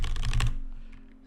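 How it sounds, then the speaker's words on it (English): Rapid computer keyboard typing, loud and close for about half a second, then fading into quieter scattered keystrokes over a steady low background hum. "hope you enjoy keyboard noises."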